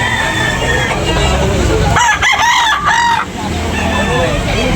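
Roosters crow repeatedly over constant clucking from many chickens at a busy poultry market in Tabunok, Talisay, Cebu, loud and close with crowd noise around.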